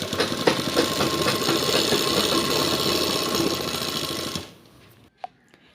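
A sewing machine runs a continuous, fast mechanical stitching rhythm while sewing elastic onto a trouser waistband, close and loud for about four seconds before stopping, followed by a brief click.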